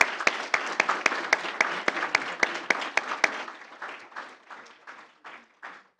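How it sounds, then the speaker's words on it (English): A round of applause at a school board meeting for debate team finishers: sharp, fairly dense clapping from a modest indoor group, steady at first, then thinning into scattered claps that fade toward the end. "I think it would be appropriate to give all of our finishers here a round of applause"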